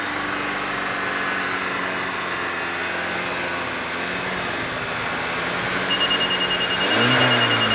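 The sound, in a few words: 2013 VW GTI 2.0L turbo engine lugging during carbon cleaning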